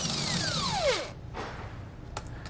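Power tool spinning off the nut from the center equalizer of a Dexter E-Z Flex suspension kit on a 2017 Grand Design Reflection trailer, a short whirring burst that winds down, then a brief second buzz and a light clank.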